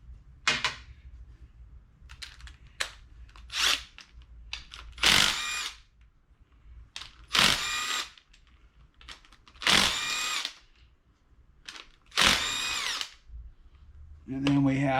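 A power tool whirs in repeated short bursts, close and fairly loud, as it backs out 7/16 bolts from the rotary cap of a Shovelhead motorcycle transmission, with pauses and faint handling noise between runs.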